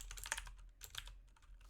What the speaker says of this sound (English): type in your ID real quick in here, 2269F, and type it in here as well